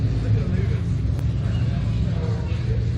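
A 1980s Mitsubishi Colt car with a faulty exhaust, its engine rumbling low and steady at close range through a short stretch, with people talking over it.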